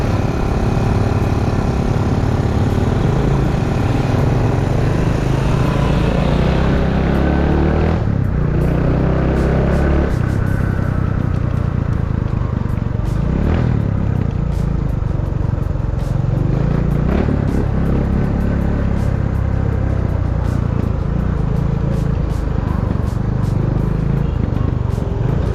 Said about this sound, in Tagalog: Grabe yung motor, hirap na hirap na.